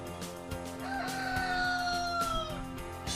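A rooster crows from a backyard chicken coop, one long drawn-out call rising and then holding, heard clearly over a busy background of other birds and clucking.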